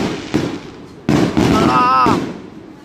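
Fireworks display bursting near a church, loud cracking booms at intervals with crackling and a whistling streak, as people talk nearby.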